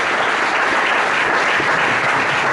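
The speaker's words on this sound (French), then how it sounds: "Est-ce que quelqu'un peut acclamer pour Jésus?" A church congregation clapping and cheering for Jesus, steady dense applause filling the room throughout.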